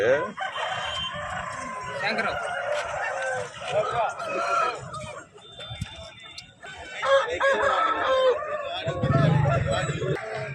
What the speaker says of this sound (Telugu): ఇవైతే ఒక పుంజు, అదేవిధంగా 3 పెట్టలు అయితే ఉన్నాయి